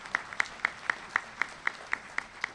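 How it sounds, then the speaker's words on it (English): Applause from the audience at a graduation ceremony comes through as a steady, evenly spaced run of sharp claps, crisp and fairly close, with no voices over it. "we need to give him a big round of applause"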